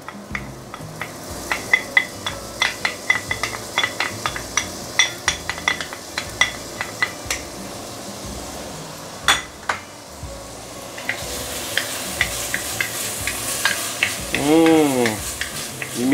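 Shallot, ginger, coriander roots and garlic fry in a cast iron pot, with steady sizzling under repeated sharp clinks and scrapes of a utensil stirring against the metal, close and busy throughout.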